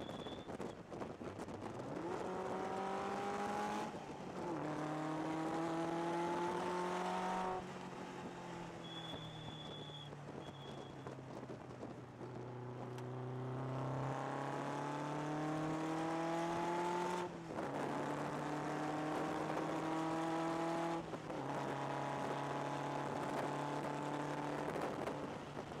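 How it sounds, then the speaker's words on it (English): A Lotus sports car accelerates hard through its gears, engine note climbing steeply then dropping at each upshift, loud and close from inside the cabin with steady wind rush and no talking. "This car is very powerful and very fast."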